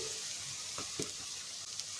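Soft, quiet sizzling of onions sautéing with ginger paste in a pan, with a couple of light scraping stirs partway through.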